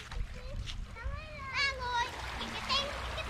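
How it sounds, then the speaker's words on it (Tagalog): Children's voices and splashing water by the sea, with high excited calls rising over a steady wash of waves and surf. "yung mga chikiting naliligo na ng dagat"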